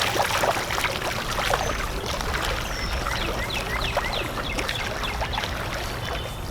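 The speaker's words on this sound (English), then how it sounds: "I have it underneath my arms and I'm swimming like this." Breaststroke in a swimming pool with a lifeguard rescue tube under the arms produces continuous close splashing and rushing water. Rhythmic sloshes repeat and no voice is heard.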